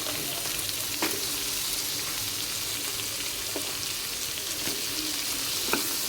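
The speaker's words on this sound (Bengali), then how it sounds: "এখন কাঁঠালগুলো, আলুগুলো সব দিয়ে দিব এক এক করে।" Jackfruit seeds and potatoes hiss and sizzle steadily in hot oil in a frying pan, a continuous moderate fry with a few sharp ticks and scrapes of stirring.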